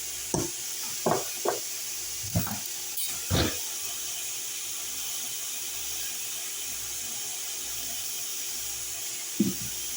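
Meat frying in a pan with cumin and turmeric, a steady soft sizzle and hiss throughout, broken in the first few seconds by several brief stirring scrapes and clinks, fairly quiet with no talk.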